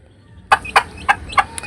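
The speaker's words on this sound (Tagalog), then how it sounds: "maingay na rin yung mga sisiw" Backyard chicks and hens chirp and cluck close by in a few sharp, bright bursts after a quiet start, with noisy calls coming at uneven intervals.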